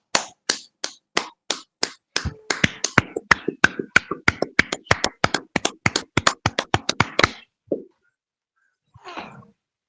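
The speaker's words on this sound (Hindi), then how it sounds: "उनके लिए तालियां" Clapping for a yoga teacher after a class session: crisp, evenly spaced claps in a quick steady rhythm for several seconds, then an abrupt stop followed by a brief soft rustle.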